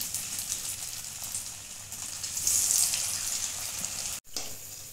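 Two pieces of bread fry in hot oil, producing a steady bubbling sizzle that swells briefly in the middle and is cut by a short dropout near the end.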